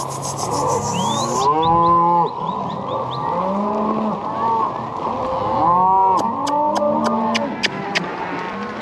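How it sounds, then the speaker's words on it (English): Cattle and calves on a ranch moo repeatedly and loudly close by, with overlapping low bellows, some rubbing and knocking noises, and a few sharp clicks near the end. "Couple calves we missed in here."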